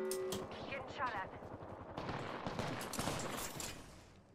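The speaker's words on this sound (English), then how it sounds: "Getting shot at." Apex Legends Arenas gunfire crackles in rapid, loud bursts of automatic shots. The shots follow one another almost without a break, close and dense through the whole stretch.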